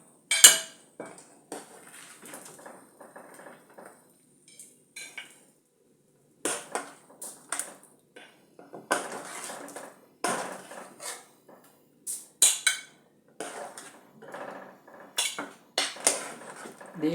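A ladle scrapes and clinks against a pot as potato and meat curry is served into a dish, giving irregular metallic knocks and scrapes with short quiet gaps and no talking.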